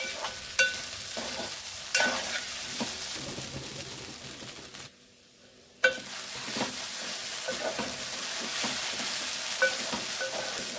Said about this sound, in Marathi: शेंगदाण्याचा कूट घालूया, मस्त परतून घेऊया।